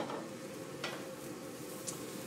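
Worcestershire-seasoned croutons being stirred through butter and oil in a pan, giving a soft, steady sizzle with a couple of light scraping strokes, close and quiet, with no voices.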